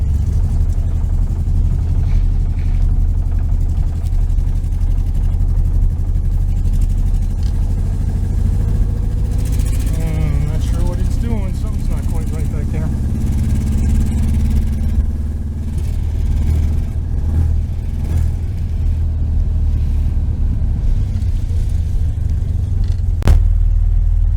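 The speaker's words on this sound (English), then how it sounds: "It's like it's missing on one of the cylinders." Steady close idle from a 1973 VW Super Beetle engine fitted with a Dellorto FRD 34 carburetor, missing on one cylinder, a continuous low uneven rumble running throughout with a brief faint rattle near the middle and a sharp click near the end.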